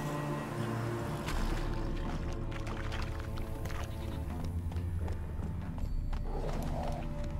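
Horse hooves trotting in The Witcher 3, steady clip-clop footfalls under background game sound and music, moderately loud throughout.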